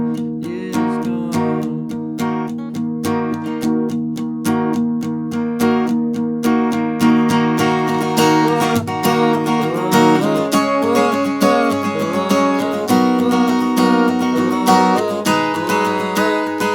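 Acoustic guitar plays the intro of a song, steady strummed chords ringing with a clear rhythmic pulse, loud and close, with no voice over it.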